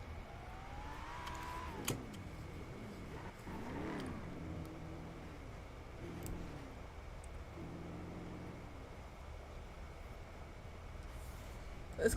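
A car engine in GTA NoPixel roleplay revving through several rising gear-change sweeps, medium loud and continuous, then settling into a quieter steady drone.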